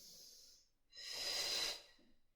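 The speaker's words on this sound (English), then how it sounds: "using that diaphragmatic breath" Close, faint breathing during a Pilates core exercise: a soft airy exhale, a pause, then a longer, stronger breath out through the mouth, heard alone.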